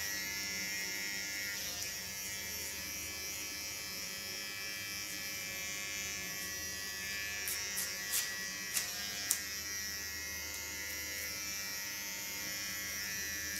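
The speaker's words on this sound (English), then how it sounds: "only the ultra small hairs in the neckline I do with a clipper" An electric hair clipper trims fine neckline hairs during a slice-cut hairstyle session, giving a steady, fairly quiet electric buzz with a few small clicks and knocks near the end, and no talking.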